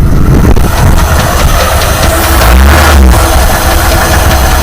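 A car engine fitted with a Holley carburetor cranks and fires up, a loud, close, low rumble that swells into a stronger roar around the middle before settling.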